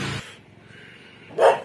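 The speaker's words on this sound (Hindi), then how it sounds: "ये देखो कुत्ता भौंक रहा है" At night outdoors in the dark, a dog gives a short bark near the end of the clip, moderately close, following an earlier brief burst of sound and a quiet pause.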